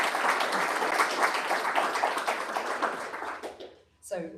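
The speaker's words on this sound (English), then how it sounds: "So please, a big round of applause to Rachel from Modul University." Conference audience applause at a food and technology event, a dense burst of clapping that fades out, followed briefly by a voice speaking.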